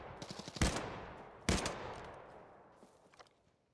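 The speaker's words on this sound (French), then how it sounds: "il me tire dessus" Gunfire in the Suicide Squad video game: two heavy close gunshots about a second apart with long rolling tails, preceded and followed by lighter scattered pops.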